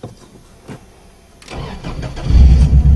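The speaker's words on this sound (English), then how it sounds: "And she fires right up." A Subaru car is cold-started after sitting. The starter cranks briefly with a clutch click, then the engine catches and settles into a loud, rumbling idle close by.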